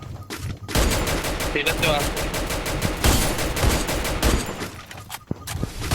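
Rapid video-game gunfire from the mobile shooter Free Fire crackles in dense bursts nearly throughout, with a few brief pauses, loud and close, while players talk excitedly over it.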